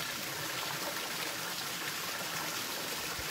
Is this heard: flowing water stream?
yes